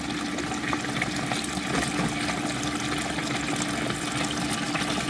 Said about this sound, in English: giving that vortex effect for all of this isopropyl alcohol to spin